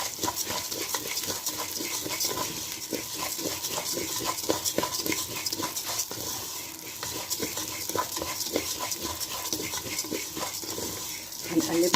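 Vermicelli fries in about three spoons of onion oil in a pot while being stirred, producing a busy, even sizzle and scraping clatter with irregular spoon knocks; a voice speaks at moments over the cooking.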